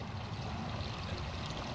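Water pours steadily into a bucket at a French drain job site, a continuous rushing, gurgling splash that stays even and close throughout the short stretch.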